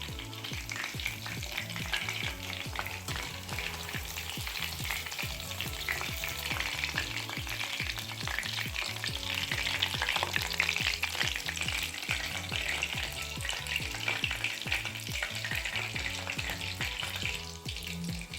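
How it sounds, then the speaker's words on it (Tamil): Pieces of chicken 65 deep-frying in hot oil, a close, continuous crackling sizzle with occasional stirring scrapes running steadily throughout, no voices over it. "மீதம் உள்ள எல்லா சிக்கனையும் நம்ம பொரிச்சு எடுத்துக்கலாம்."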